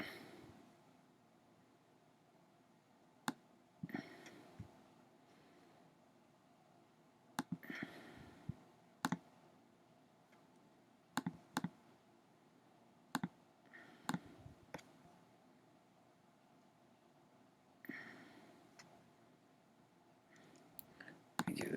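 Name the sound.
computer mouse double-clicking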